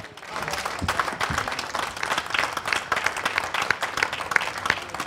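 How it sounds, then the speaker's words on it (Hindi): Steady audience applause filling the room at a Holi poetry gathering, a dense patter of many hands clapping continuously for several seconds without voices standing out. "मेरे लिए भी ताली बजा दीजिए"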